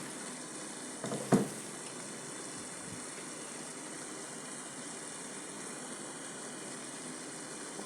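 Tomato paste goes into a hot frying pan, with a single soft clunk followed by a steady, even sizzle hissing quietly throughout.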